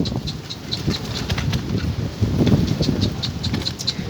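Pigeons flutter and coo amid a busy outdoor bustle, with repeated soft bird calls scattered throughout and a steady background murmur.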